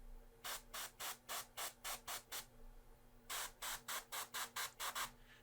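An airbrush spraying primer paint onto a miniature in short, evenly spaced bursts: about eight quick hisses, a pause, then another run of a dozen or so, close and faint.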